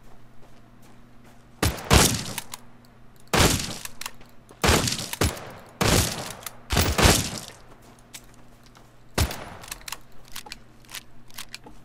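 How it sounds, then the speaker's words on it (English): Gunfire in the video game The Front comes as sharp, loud cracking bursts, about seven of them at uneven intervals, some in quick pairs, over a faint steady hum. "somebody's shooting at me"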